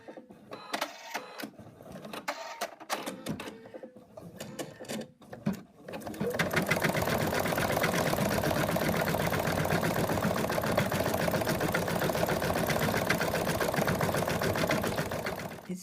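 An embroidery machine stitching out a small heart starts with a few scattered clicks and knocks, then settles into a steady, loud, fast mechanical whir and chatter that runs without a break, with no talking.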